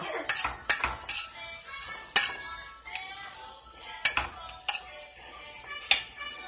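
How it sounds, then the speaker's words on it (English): A spoon stirs ground meat browning for sloppy joes in a pot, giving a string of metallic clinks and scrapes against the pot at an uneven pace over quiet background, close by. "I'm just going to keep stirring it until it gets brown."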